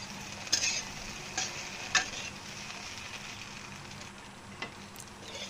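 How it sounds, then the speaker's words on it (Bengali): Soybean chunks fry in a hot pan and get stirred, giving a soft, steady sizzle with a few sharper scrapes and clinks from the stirring, fairly quiet and close with no talking. "সয়াবিনটি ভালো করে ভাজা হয়েছে।"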